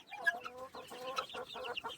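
Turkeys and guinea fowl call nearby: a quick run of clucking, chattering bird cries, one after another over a couple of seconds.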